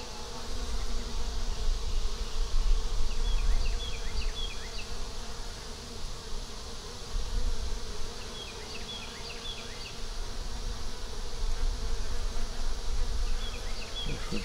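Honey bees hum steadily around an open hive during a hot-weather inspection, a dense continuous buzz with swelling and fading loudness and no talk over it.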